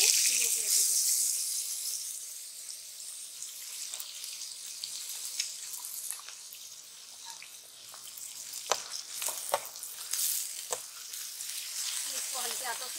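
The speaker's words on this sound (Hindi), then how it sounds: "इसको हल्के हाथों से भूनेंगे" A steady hiss of soaked rice frying in a pan fills the background, broken by scattered clinks and scrapes of stirring.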